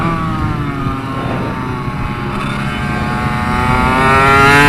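A two-stroke minibike engine buzzes at a race, a loud, steady, high-revving drone that climbs slightly in pitch and volume toward the end, with no talk over it.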